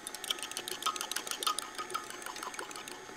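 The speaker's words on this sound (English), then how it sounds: "I'm just going to whisk them together." Cold buttermilk and an egg whisked together in a bowl, a quick, steady rhythm of light clicking and sloshing taps, close but fairly soft.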